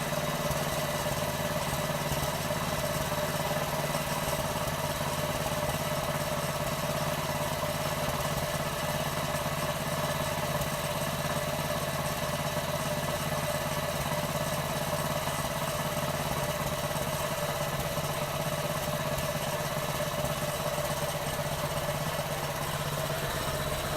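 A Honda GX160 small engine in a GEET setup, fed 80% sugar-water and 20% petrol, runs at a steady, unbroken drone throughout. It sounds constant and fairly loud, with no speech over it.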